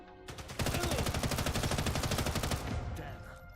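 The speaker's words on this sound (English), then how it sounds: "I could use this SMG" Rapid submachine gun fire in the WWII shooter Sniper Elite Resistance, a sustained loud burst of evenly spaced shots lasting about two seconds before trailing off into a short echo.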